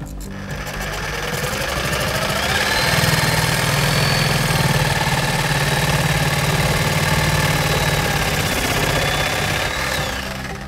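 A reciprocating saw (Sawzall) cuts through hot tub plumbing pipe, a loud, steady buzzing drone that ramps up, holds for about ten seconds, then winds down, with no talking.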